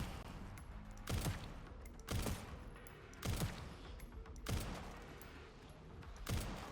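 Gunfire in the video game Resident Evil 9: five loud, sharp shots spaced roughly a second apart, each ringing out over a steady background of game ambience, with no voices.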